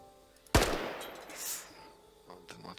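A single sharp, loud gunshot cracks from a noisy gun in the ArmA 3 video game, followed by a decaying echo and a few faint clicks afterward.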